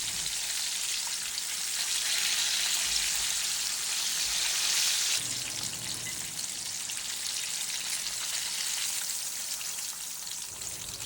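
Chicken strips fry steadily in hot oil for home-cooked fried chicken, a dense, continuous crackling sizzle that stays close and even throughout, with no voices.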